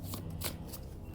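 A deck of cards being shuffled by hand, a short quick riffle of soft papery flutters and snaps, close and clear.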